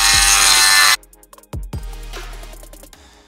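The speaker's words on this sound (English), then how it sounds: "So I'm doing that with a Dremel." A Dremel rotary tool grinds the edge of a PowerFlex polyurethane upper control arm bush for a Porsche 928. A loud, dense whine runs for about a second and cuts off abruptly, followed by quieter clicks, knocks and handling sounds.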